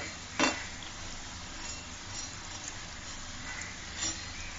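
Pakhi pitha frying in oil in a pan while being stirred and turned, soft sizzling under a few light clinks of a utensil against the pan, close and quiet.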